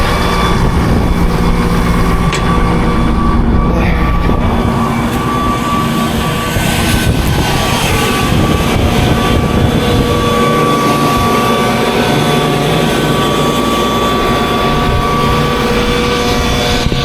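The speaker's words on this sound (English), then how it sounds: "my little air compressor needs to be turned on" A small air compressor runs steadily on a farm on a cold day during corn planting, a continuous close motor hum and drone with no pauses and no talking.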